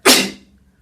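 A single close sneeze bursts out sharply and quickly fades to quiet.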